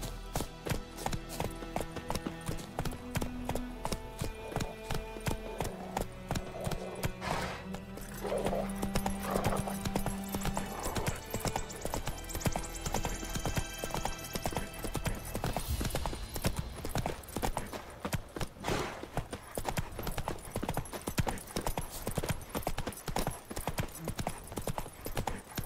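Horse hooves clip-clop in a steady, close trot while riding through The Witcher 3, with the occasional whinny and low background tones under the rapid, even beat.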